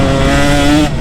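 Two-stroke dirt bike engine pulling under throttle while riding, a loud, close, steady buzzing tone held for about a second before cutting away at the end, with no talk over it.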